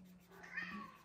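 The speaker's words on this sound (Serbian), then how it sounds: "čujete mog mačka" A house cat sits indoors wanting to go out onto the terrace and gives one short, faint meow against a quiet room hum.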